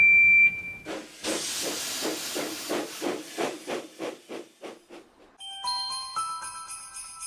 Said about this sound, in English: all the engines whistled, including James. But Percy's was the loudest whistle of all.